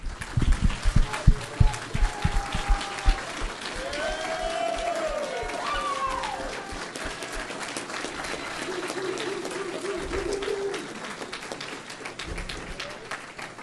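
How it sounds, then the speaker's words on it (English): An audience claps and cheers together for the speakers at an evening event, a dense burst of applause that swells early and then gradually thins out, with a few voices calling out. "please join me in giving a round of applause for our speakers"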